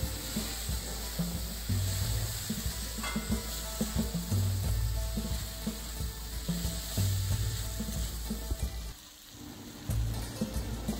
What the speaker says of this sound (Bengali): মশলার সাথে আলুটা আমি ভালো করে 2 মিনিটের মতো কষিয়ে নেব